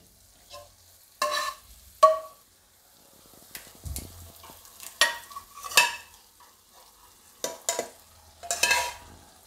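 Dal stirred into soft cooked tomatoes in a pan, with repeated scraping strokes of a spoon in irregular bursts and a light sizzle between them, close and clear.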